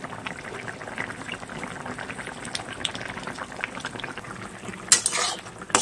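Fish curry gravy bubbles steadily in a pot on the stove, a close, soft continuous boil with a brief clink of a utensil near the end; no talking.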